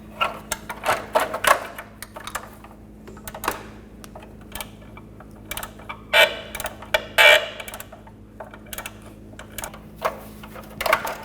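A Mini Cooper exhaust manifold is being bolted up with a hand tool, giving quick clicking ratchet bursts in short runs with pauses between them. The sound is close and dry, with a low steady hum underneath.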